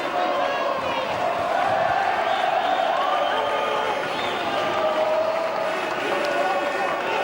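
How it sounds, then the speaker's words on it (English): A home boxing crowd chants steadily for Jaime Barboza during his IBO super middleweight title fight against Brian Magee, a loud, sustained rhythmic roar running under a commentator's voice. "Home crowd chanting for"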